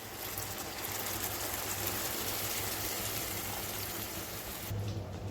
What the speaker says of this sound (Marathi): आणि रस्सा राहील एवढं पाणी टाकायचं